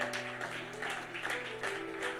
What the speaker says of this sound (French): Si nous pouvons lui donner des acclamations.